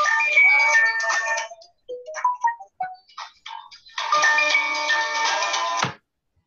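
A phone ringtone chimes loudly during an online video call, a melodic electronic ring that plays, breaks into scattered softer tones, then resumes in a second strong burst before cutting off abruptly.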